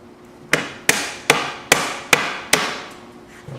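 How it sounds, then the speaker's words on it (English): Six sharp hammer blows strike a hard plastic round rain barrel part during assembly in a steady rhythm, each ringing briefly before the next, close and loud with no talking. "Hammer this down with the hammer a little bit."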